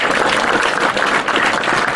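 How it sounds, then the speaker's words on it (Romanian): Dense, loud applause from the congregation inside a village church in Polocin, Pogonești, during the Divine Liturgy, a continuous close wash of many hands clapping together. "Vă rog să aplaudăm,"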